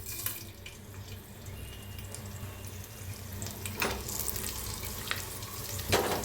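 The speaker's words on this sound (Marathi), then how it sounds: "तेल चांगलं गरम झाले, त्याच्यात सगळे खडे मसाले टाकूया।" Whole spices tossed into hot oil for a spiced rice dish, sizzling with a steady close hiss and a few brief louder crackles and spatters, no voices.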